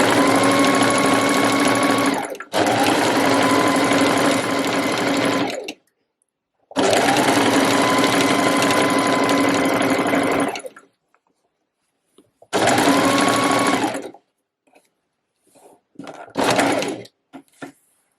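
A sewing machine stitching trouser fabric, running in several long, steady, loud whirring bursts separated by short pauses, ending with a few brief stop-start runs, close up without speech.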